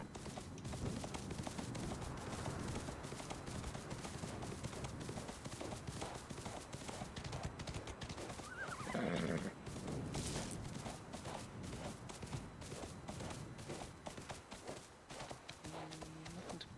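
A horse gallops in the video game Windstorm: An Unexpected Arrival, its hooves drumming in a steady, rapid clip-clop that carries on throughout at moderate volume. A brief neigh breaks in partway, and no one speaks.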